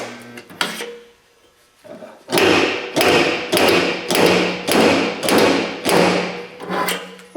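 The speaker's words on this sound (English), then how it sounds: "So I can pull on this dent a few different places." Repeated metallic pulling impacts on a dented 1970 Camaro body panel: after a few scattered taps, a steady series of about eight loud, evenly spaced hits rings out close by, with no talking.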